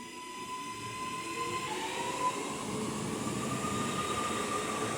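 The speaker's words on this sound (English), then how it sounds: "now departing is the 11:15 Northern service to Manchester Piccadilly" Northern passenger train departing on the West Coast Main Line at Gatley, a steady rumble building gradually, with a thin high whine from the wheels and motors, no talking.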